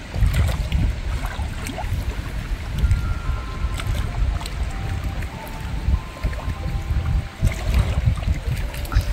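Wind gusts buffet the microphone on the Danube bank during a fishing and camping trip, a rumbling, uneven low roar with occasional faint clicks and no voices.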